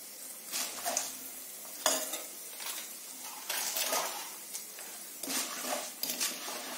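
Mustard seeds and a pinch of asafoetida frying in hot oil as tempering for tamarind pulihora, with crackling sizzle bursts, stirring and pan clinks in uneven surges.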